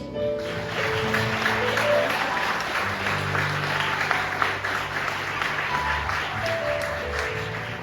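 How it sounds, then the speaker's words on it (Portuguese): A church congregation applauds for Jesus during a Portuguese-language sermon on maturity and sanctification, the clapping dense and steady throughout with sustained musical tones beneath it. "Quem pode aplaudir Jesus?"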